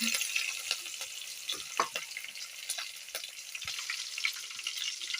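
Curry leaves and ginger garlic paste frying in oil for a village-style chicken curry, a close crackling sizzle with sharp spitting pops scattered throughout, alone without speech.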